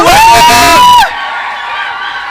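A crowd at a Christmas event for children cheers and applauds loudly. A sustained roar of clapping and shouts follows a brief high tonal whoop.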